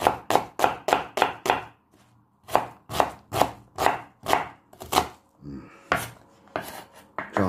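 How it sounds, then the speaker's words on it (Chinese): Onion being chopped with a knife on a board, a fast run of loud, close, even thuds in bursts of five or six, pausing briefly between runs. "下我们开始切个皮牙子，皮牙子把它切碎就行了啊"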